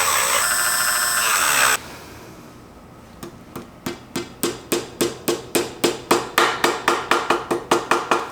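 A hammer is used on parts during a Samchully bicycle restoration. After a loud burst of machine noise, about twenty sharp metallic strikes follow in a quick, steady rhythm, close and loud.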